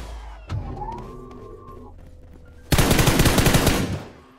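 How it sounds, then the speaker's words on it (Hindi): Gunfire from the front in the video game BGMI: after a quiet stretch with a faint tone, a loud, sustained burst of rapid automatic shots suddenly fills the last couple of seconds. "सामने की तरफ से हुआ फायर"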